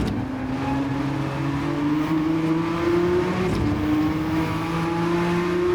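A Gr.1 race car engine in Gran Turismo 7 holds a steady, rising drone through a gear, loud and continuous with a faint tire squeal and no talking.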